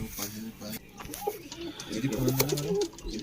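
Pigeons coo softly up close in low, rolling calls, several overlapping, with a voice talking over them and some rustling.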